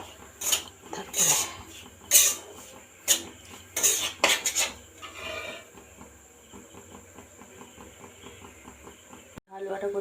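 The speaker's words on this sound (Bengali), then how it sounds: "প্রথমে এখানে যে ভালো করে ভেজে নিচ্ছি" A spoon scrapes and clatters in a pan as semolina roasts for halwa, sounding as several sharp metallic knocks and scrapes up close, then softer steady stirring. A voice can be heard faintly in the background.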